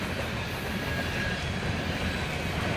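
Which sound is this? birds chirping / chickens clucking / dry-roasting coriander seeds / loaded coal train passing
loaded coal train passing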